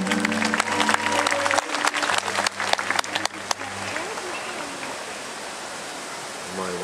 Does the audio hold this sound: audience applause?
yes